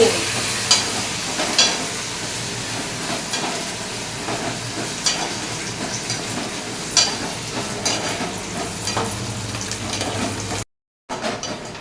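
Wheat rava and curry leaves fry in a pan with a steady close sizzle, broken by scraping stirs at irregular intervals, with no talking, before a brief dropout near the end.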